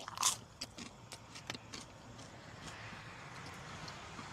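Someone bites into crunchy pizza crust close by: one crisp crackling crunch, then a string of softer, fainter crunches as chewing continues in a quiet room.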